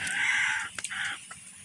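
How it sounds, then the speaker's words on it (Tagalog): Backyard chickens cluck and a rooster crows nearby, two short bursts of crowing over soft clucking in a rural garden. "Ito naman yung alaga kong mga manok."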